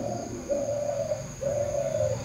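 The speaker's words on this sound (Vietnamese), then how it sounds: "Đây là chú chim mái đang ngồi để chuẩn bị" A female spotted dove sitting in a nest cage gives two soft, low, drawn-out coos, one after the other, over a faint steady background hum, with no talking.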